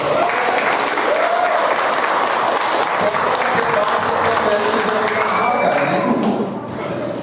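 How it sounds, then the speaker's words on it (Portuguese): A church congregation bursts into sustained, dense applause that fills the room for several seconds before fading near the end, with voices mixed in. "A gente podia dar uma salva de palmas para elas?"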